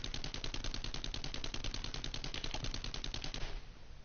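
Rapid automatic gunfire in the video game 7 Days to Die, a steady fast stream of evenly spaced shots lasting several seconds before stopping abruptly, close and loud.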